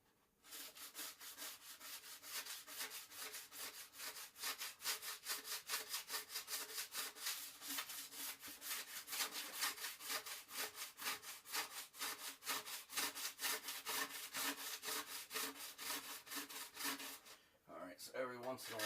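A thin plastic scraper pulls wax off the base of a GNU B Nice 148 snowboard in fast, steady, rhythmic strokes, close and continuous for most of the stretch before stopping near the end.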